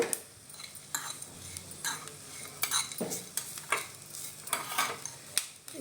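Curry leaves fry in oil with garam masala for Savaji-style mutton sukka, giving a soft sizzle broken by repeated stirring scrapes and utensil clinks against the pan, close and moderately loud with no voices.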